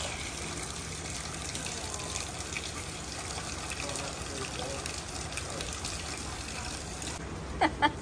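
Heavy rainwater running out of a farm gutter, a steady, loud splashing and trickling stream that carries on without a break, with people talking over it.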